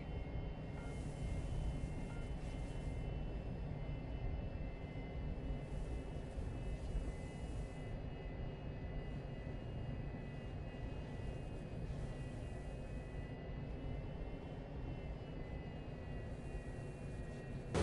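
Jet aircraft coming in for a hot landing with extra air brake deployed, a steady faint engine rumble and whine holding throughout with no talk over it.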